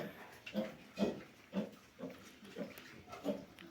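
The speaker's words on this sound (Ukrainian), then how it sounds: "Опоросилась наша третя свиноматочка." A sow with her newborn piglets grunts in short rhythmic bursts, about one every half second, close by and moderately loud.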